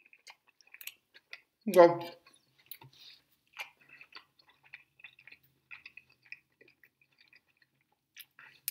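Someone eats a Crockpot chicken fajita in a Mission protein tortilla topped with Texas Pete hot sauce, making soft, close, scattered chewing clicks and squishes after one brief spoken word.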